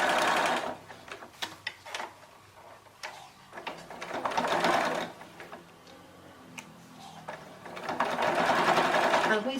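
A sewing machine stitches fabric in loud close bursts, rapid mechanical chattering runs starting and stopping with clicks between them.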